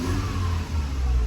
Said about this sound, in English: when you rev the engine and let it idle